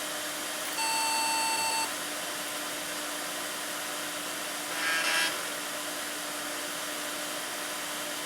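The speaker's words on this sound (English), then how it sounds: "I don't know what that long beep meant" A PC Chips K7 KT266A M811 motherboard with an Athlon XP gives a steady electronic tone on power-up, lasting about a second, and a second shorter burst follows a few seconds later. Both sit over a constant fan-like hum.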